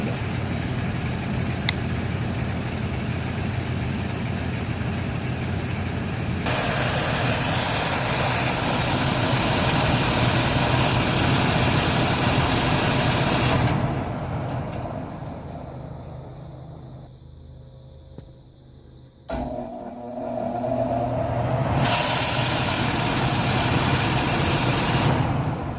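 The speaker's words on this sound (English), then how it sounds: "The furnace is making a rumbling sound." Household furnace rumbling with a loud, continuous low drone, its tone and strength shifting as the blower runs, briefly dropping and muffling before resuming; no voices.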